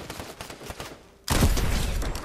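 Heavy burst of automatic gunfire in Fortnite, starting abruptly after a quieter stretch and sustained loud and close to the end, with no talk over it.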